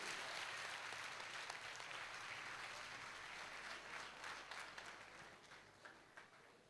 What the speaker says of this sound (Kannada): ಕೈ ಮೇಲೆತ್ತಿ ಜೋರಾಗಿ ಚಪ್ಪಾಳೆಯನ್ನು ತಟ್ಟಬೇಕು